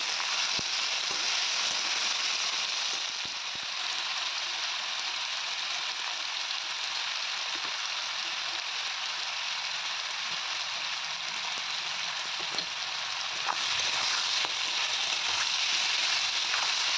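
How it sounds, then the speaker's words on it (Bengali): Chopped onion, tomato and garlic fry in a pan, giving a steady, close crackling sizzle that runs unbroken for many seconds and grows a little louder near the end. "পেঁয়াজ কুচি, টমেটো কুচি আর রসুন ভাজা ভাজা করে নিচ্ছি।"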